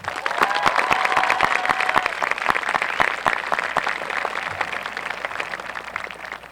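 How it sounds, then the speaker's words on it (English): A crowd at a high school graduation ceremony applauds steadily and loudly, with dense overlapping clapping and a few sharper claps standing out, sustained throughout without fading. "We have another round of applause for our student speakers."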